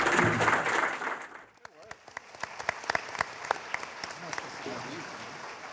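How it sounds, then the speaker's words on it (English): Applause from people in a school district board meeting room, a loud burst of clapping that thins out into scattered individual claps, ending with a voice speaking. "Let's give everybody in the room a round of applause for"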